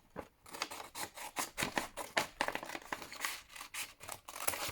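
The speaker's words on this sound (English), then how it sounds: "scissors, my trusty scissors" Scissors trimming coffee-dyed paper on a grungy lapbook page, a rapid run of crisp, close snips in a steady rhythm, with no talk.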